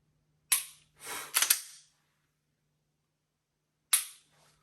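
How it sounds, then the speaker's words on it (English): Dry firing an FN 509 Tactical pistol fitted with an Apex flat trigger, giving a few sharp close mechanical clicks and a slide rack, separated by silence. "Dry fire has been so much fun so far with this thing"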